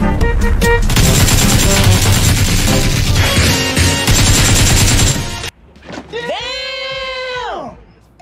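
Rapid gunfire in a shooter video game pours out in dense, loud bursts of shots for about five seconds, then cuts off abruptly and a wavering, bleating vocal sound follows.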